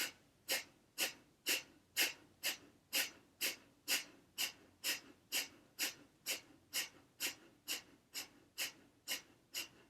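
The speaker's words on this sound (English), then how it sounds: "Exhale out your nose." Sharp nasal exhales in yoga breathwork repeat in a steady, even rhythm, about twenty forceful puffs in ten seconds, close and fairly loud with nothing else around them.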